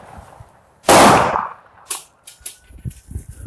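Police officers fire a single sharp, loud gunshot close by after a foot pursuit, followed by fainter clattering and shuffling sounds as the scene continues.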